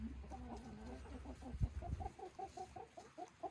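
Soft, rhythmic clucking from a hen, a run of quick repeated notes, quiet and close, with faint background noise, in a village setting.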